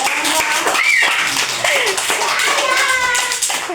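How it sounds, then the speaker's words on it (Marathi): Children clap their hands together during a classroom colour-and-ball game, a quick burst of close clapping mixed with children's voices chattering over it. "टाळ्या वाजवा."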